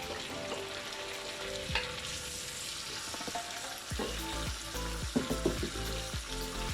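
Onion, curry leaf and chilli frying in a pan for curried chicken and rice, a constant crackling sizzle with several scraping stir strokes and clinks, close and alone.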